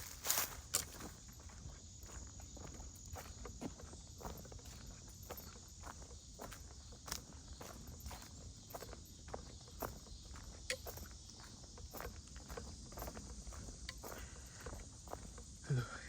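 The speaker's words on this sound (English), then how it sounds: "Who doesn't like a bit of cicada songs?" Cicadas sing in a forest in August, a steady high drone running throughout under nearby footsteps crunching along the ground.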